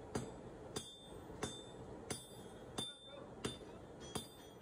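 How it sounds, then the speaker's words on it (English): Hammer blows flatten a cut piece of aluminum bronze alloy for forging a bronze age tool, seven sharp metallic strikes at a steady, slightly uneven rhythm, close and moderately loud against a quiet background. "After cutting a suitable-sized piece, I started to hammer the piece flat."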